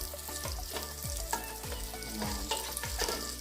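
Ginger sautés in a hot pan with a bright, crackling sizzle, while repeated stirring strokes scrape and thump in a quick, uneven rhythm close by.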